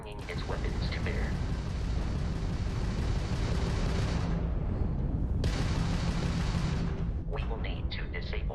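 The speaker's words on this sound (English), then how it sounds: "that's a Crimson Fleet ship bringing its weapons to bear" Weapons fire from a Crimson Fleet ship during space combat in the game Starfield, heard as loud continuous rumbling blasts and booms, with a brief dip midway, then heavy firing again.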